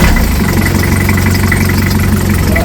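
A running car engine with a leaking core plug jetting water, a loud, steady close-up idle with a dense, even mechanical drone throughout.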